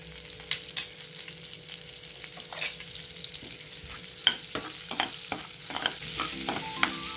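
Bay leaves frying in a little oil and butter in a pan for palak paneer: a quiet steady sizzle punctuated by sharp scraping and tapping strokes of a spoon, close by, with no talk.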